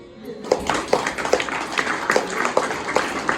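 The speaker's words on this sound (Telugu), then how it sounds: "చప్పట్లు కొట్టమన్నాను, చప్పట్లు లాభమనిలే" Children at a Children's Day celebration clap their hands in a steady, fairly close burst of rhythmic claps with a murmur of voices underneath.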